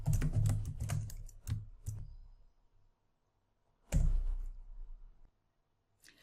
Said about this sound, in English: I'm going to type him a message.